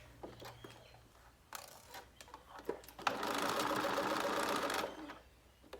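A sewing machine stitching across a zipper pouch seam at a 1/4 inch allowance, with faint handling clicks before a close, steady whirring run of about two seconds that then stops.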